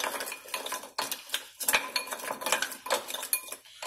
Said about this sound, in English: Now I don't want a lot of oil, so I'm just going to put a bit and just mix everything up.